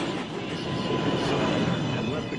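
An NYC Subway 1 train pulls into Lincoln Center station with a loud, continuous rumble and roar of wheels on rails, filling the platform with a steady, dense wash of noise.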